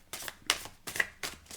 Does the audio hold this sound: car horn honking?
no